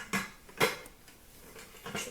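Cooking pots in a home kitchen clink as they are stacked one inside another, three or four sharp metallic knocks spaced irregularly, close and fairly faint against a quiet room.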